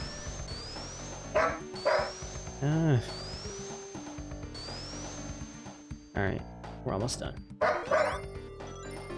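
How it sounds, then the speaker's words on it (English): Several dogs bark and yip in bursts at home, fairly close, breaking over background game music with electronic tones while someone talks briefly. "Sorry for the barking."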